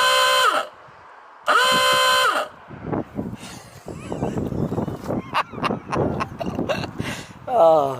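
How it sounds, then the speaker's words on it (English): A newly wired old-fashioned 12V air horn on a campervan blares in two loud, sustained blasts separated by a pause, then gives way to rustling, clattering handling noises and a short final toot. "just wired up new air horn, the old-fashioned air horn"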